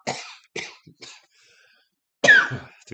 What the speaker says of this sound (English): I just coughed behind Selena's back.